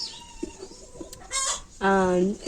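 Chickens on a Kenyan countryside farm cluck nearby, with a short burst of calls and then a loud drawn-out squawk over faint background voices.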